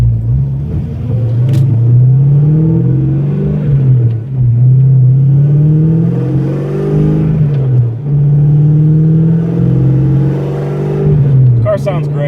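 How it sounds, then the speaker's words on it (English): A 1987 Ford Mustang Fox body with a Bassani catback exhaust drives along, giving a loud, close, deep exhaust rumble that climbs and falls in pitch through repeated rev rises and gear changes. "we're just kind of gonna do a little driving around until the car gets warmed up"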